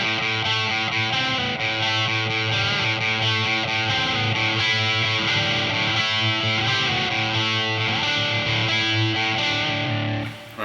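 A heavily distorted electric guitar chugs through a riff with ringing power chords, loud, sustained and continuous, played alone for about ten seconds before cutting off.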